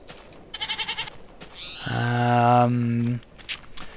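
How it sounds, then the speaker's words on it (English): Billy goats in Minecraft give a loud, sustained harmonic bleat near the listener, preceded by a short rapid trill of game sound and followed by brief clicks. "And billy goats."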